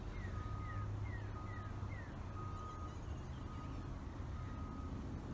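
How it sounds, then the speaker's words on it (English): A dump truck backs up near a nature trail, its reversing beeper sounding as a series of faint, distant, evenly spaced beeps over steady low rumble and outdoor noise. "Birds squeaking and a dump truck backing up."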